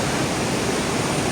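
River water rushing steadily toward a tunnel, a close, dense, continuous wash of broadband noise with no breaks and no voices.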